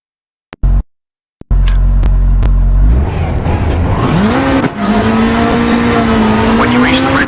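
Rally car engine in Richard Burns Rally, a few short blips, then sustained loud revving under throttle with rising and falling pitch, briefly dipping and climbing again, close and steady throughout.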